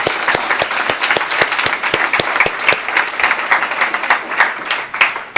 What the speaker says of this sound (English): So if you could join me in a round of applause for Joan Zapatini